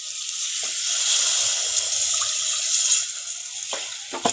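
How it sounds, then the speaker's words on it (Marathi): Water poured into a pot of simmering chicken curry, a steady broadband rush of pouring that runs close and fairly loud for several seconds, with a few soft knocks and clinks near the end. "यात आपण थोडंसं पाणी टाकूया."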